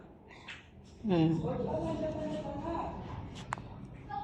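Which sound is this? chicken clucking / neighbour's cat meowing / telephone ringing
neighbour's cat meowing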